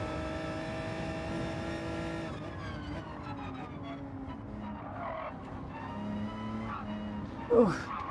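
Race car engines whine and shift pitch as several cars pass in the Gran Turismo 7 racing game, with a short louder bump near the end.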